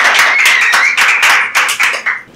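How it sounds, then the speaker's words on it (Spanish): Brisk clapping for Nessy during an interview, a handful of close, sharp claps in quick bursts that thin out and stop near the end. "Nessy, fuerte el aplauso"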